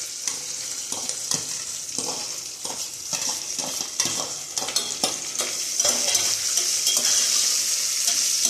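Onions and green chillies sauté in a pan for coconut milk rice, a steady close sizzle broken by frequent spoon scrapes and stirring clatter, growing slightly louder toward the end with no talking.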